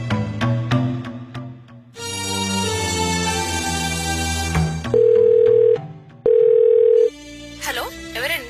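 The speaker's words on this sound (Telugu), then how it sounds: "ఆ అమ్మాయి ఫ్రెండ్ సిరికి ఫోన్ చేసి కనుక్కోండి." Speech and background sound come first, then the ringback tone of an outgoing phone call sounds as two steady, evenly spaced beeps, clear and close.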